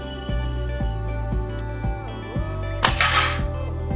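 A Diana Outlaw Artemis M16 air rifle fired at a small red paper target, giving one sharp, close crack with a short hiss-like tail over a steady background hum and periodic mechanical clicks.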